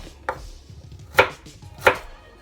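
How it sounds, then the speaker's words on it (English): A kitchen knife chops garlic into small pieces on a cutting board, with three crisp, separate knocks spaced apart over a quiet room background. "It makes it easier to blend when you cut them into small pieces"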